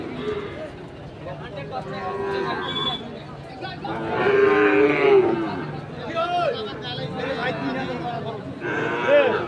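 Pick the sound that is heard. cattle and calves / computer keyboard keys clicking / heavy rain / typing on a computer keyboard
cattle and calves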